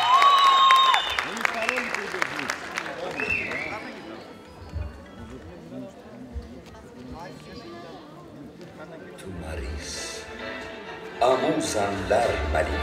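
Applause greets a contestant coming on stage at a women's pageant contest, a sustained crowd clapping beneath a loud announcer's voice and music, swelling again near the end.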